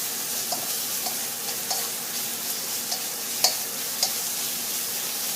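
Pork cartilage stir-fried with curry paste in a pan, a continuous close sizzle with a spatula scraping and tapping at irregular intervals and no talking.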